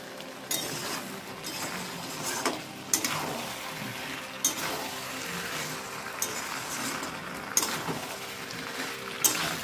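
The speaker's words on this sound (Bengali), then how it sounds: "দেখো কষিয়ে যাচ্ছি মশলার সঙ্গে।" Potatoes with tomato, cumin and ginger paste are sautéed in a pan: a soft, steady sizzle under repeated sharp clicks and scrapes of a spoon stirring, close by, with no talking.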